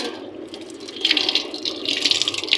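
Salted bitter gourd pieces are washed in water, with a steady patter of splashing and running water that grows busier toward the end.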